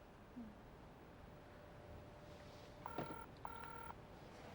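A telephone dials a call with a few short tone beeps, followed by two brief electronic tone bursts. They are faint and heard over a quiet, hissy room background.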